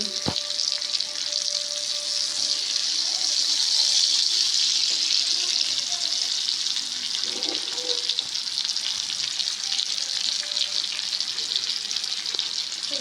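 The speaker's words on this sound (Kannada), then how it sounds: "ದೊಡ್ಡ ಮೀನು ಫ್ರೈ ಆಗ್ತಾ ಉಂಟು ನೋಡಿ" A big fish fries in hot oil with a dense, steady sizzle, joined briefly by a running tap and some faint background voices.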